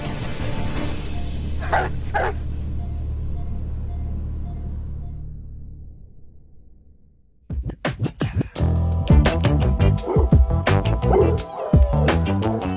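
An injured pit bull, a valuable breeding dog coming out of anesthesia, whimpers faintly at first. After a brief silence it breaks into a close, loud run of sharp barks and yelps.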